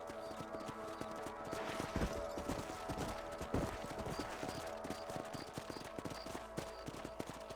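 Horse hooves clip-clop in a steady, quick rhythm in Red Dead Redemption on PlayStation 4, over a busy game soundscape with faint background music and effects.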